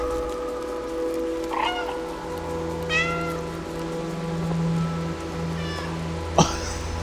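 Cat meows from the video game Stray: several distinct meows, a short one, then a rising one, then a sharper cry near the end, heard clearly over a steady ambient hum.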